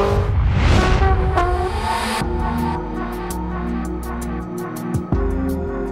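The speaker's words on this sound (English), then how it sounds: "This test teaches you how to brake hard" A race car in the Gran Turismo 4 Prologue video game: the engine roars at speed, then drops sharply under hard braking. Engine hum and whine continue to the end, with a few ticking sounds along the way.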